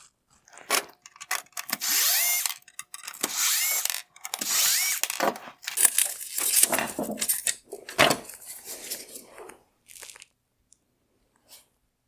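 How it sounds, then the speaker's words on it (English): A power tool whirs and crunches in several bursts while backing T20 screws out of a 2012-2015 Mercedes-Benz ML350 tail lamp, with a clicking mechanism and scraping between runs, close up and without talk. "The center LEDs are held in place with 3 T20 screws."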